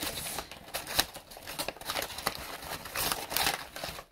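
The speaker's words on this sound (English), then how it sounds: "it's loud playing with a plastic or a paper bag" Plastic or paper bag being crumpled and twisted in the hands, close, continuous crinkling with sharp crackling bursts throughout.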